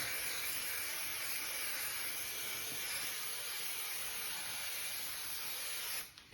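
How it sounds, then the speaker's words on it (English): An aerosol spray can sprays adhesive or coating onto the fabric of a VW Beetle interior in a steady, close, continuous hiss that holds for about six seconds and then cuts off abruptly. "you go ahead and spray your material"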